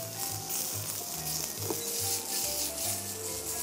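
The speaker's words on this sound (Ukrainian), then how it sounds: "Для начала обжарим бекон с чесноком." Bacon frying in a pan with chopped garlic gives a steady, even sizzle and crackle, close and moderately loud, with no talking.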